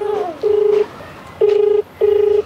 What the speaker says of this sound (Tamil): அவங்க அம்மாவுக்கு ஃபோன் பண்ணுவோமா